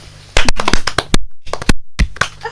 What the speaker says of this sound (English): This clapping is very disorganized.